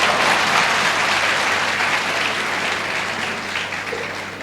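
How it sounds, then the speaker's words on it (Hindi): Sustained audience applause at a felicitation ceremony honoring top SSC CGLE 2018 results, steady dense clapping filling the room at close range without talk. "अब मैं चाहता हूँ आप उन भाइयों बहनों के लिए तालियां बजाएं"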